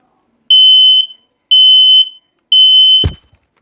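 Smoke alarm under test giving three loud, piercing electronic beeps at a steady one-second rhythm, each about half a second long, with a brief thump near the final beep.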